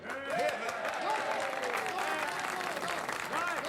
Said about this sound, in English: You must not applaud.